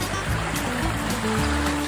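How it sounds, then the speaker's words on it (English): Fast-moving river water rushing steadily near a canoe, a continuous close broadband wash with small splashes and gurgles. "Some fast moving water right off the bat"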